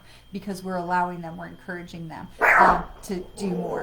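A pet dog barks once in a short loud burst midway, set against a person speaking calmly indoors before and after.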